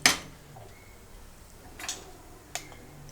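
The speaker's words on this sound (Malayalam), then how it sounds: "നന്നായിട്ട് ഇളക്കി കൊടുക്കുക" A spoon stirs chilli powder into a crab roast in a pan, making a few sparse, faint clinks against the metal, with quiet pauses between them.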